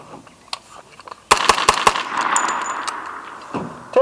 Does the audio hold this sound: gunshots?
yes